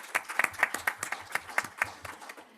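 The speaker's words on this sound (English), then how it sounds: "A big round of applause before opening the floor" A small audience applauding after a roundtable on occupational risks, a handful of distinct, fairly quiet hand claps in a loose rhythm, heard alone.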